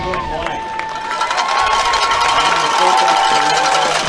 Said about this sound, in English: you can tell we've got a loud crowd on hand tonight